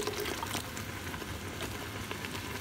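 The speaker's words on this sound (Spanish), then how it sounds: "lo que vamos a hacer es colocarle un poquito de agua, solamente un poquito del agua que nos sobró y un poquito de caldo de vegetales" Water and vegetable broth poured into asparagus cream soup in a pot, a steady liquid pour and trickle running through the whole short stretch with no talk.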